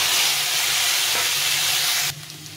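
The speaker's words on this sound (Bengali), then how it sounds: "এখন আমি আলু আর কচুটাকে ভালো করে একটু ভেজে নেব" Potato and taro pieces fry in hot oil with a loud, steady hiss and sizzle that drops off sharply near the end.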